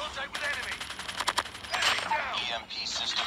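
Rapid shots from an automatic sniper rifle in Call of Duty Mobile crack in a quick string of sharp bursts, fairly loud and close, while a player talks over the gameplay.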